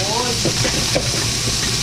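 Steady sizzling hiss of pork udder frying in a hot pan, loud and close, with faint crackles throughout.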